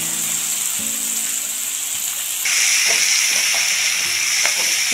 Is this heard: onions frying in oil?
yes